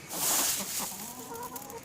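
Chickens cluck softly while eating wheat, a few short, close clucks over light scratching and pecking noise.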